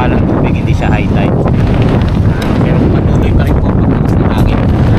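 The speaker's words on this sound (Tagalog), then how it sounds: "Pero patuloy pa rin po pagkakas ng hangin." Heavy typhoon wind near the sea roars and rumbles against the microphone without a break, loud and close, with faint voices under it.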